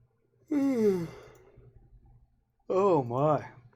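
A person yawns twice, close and alone: a long drawn-out yawn that falls in pitch, a pause, then a second wavering yawn.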